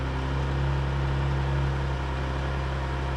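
A straight-piped Audi RS5 idles after a cold start, a steady low droning rumble with a constant tonal hum, close and continuous without voices.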